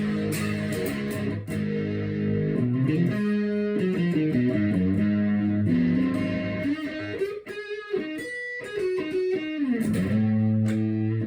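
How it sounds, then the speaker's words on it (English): Electric guitar heavily distorted through a Boss DS-2 Turbo Distortion pedal, playing sustained chords and a short riff, thick and buzzy, loud and continuous with no talking. "So if I put the distortion at 12, this is what I get."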